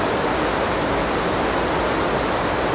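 Broadband roar of water rushing over a reservoir spillway, a steady, loud and unbroken wash of noise with no voices over it.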